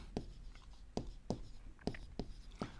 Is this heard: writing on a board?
yes